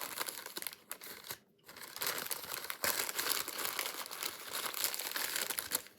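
Wrapping paper crinkles and tears open in a continuous, close-up rustle lasting several seconds, with a brief pause partway through before the crunching and ripping resumes.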